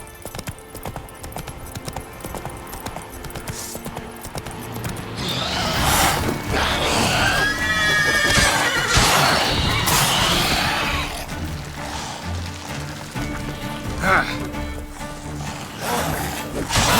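Horse Roach galloping in Witcher 3, rapid hoofbeats throughout with a loud neigh midway amid game ambience and effects.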